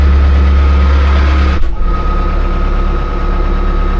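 A TYM 4815Ch tractor idles at 1000 RPM, heard from inside the cab as a loud, steady, low engine drone that dips briefly partway through before settling back to the same even hum.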